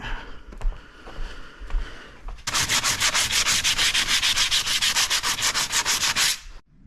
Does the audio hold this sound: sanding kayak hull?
yes